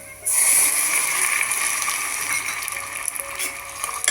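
Water poured onto jaggery in a hot pot of ghee bursts into a loud sizzle, then settles into a steady bubbling hiss with light stirring scrapes.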